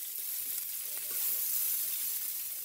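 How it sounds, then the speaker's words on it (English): Onions sautéing over high heat, a continuous bright hiss and sizzle with faint sporadic crackles, heard alone throughout. "keep that heat up real high so you can keep those onions sauteing"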